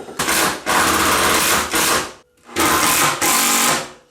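A cordless drill whirs loudly in two long bursts, about two seconds each, driving screws into a wall, with a short pause between them, close by.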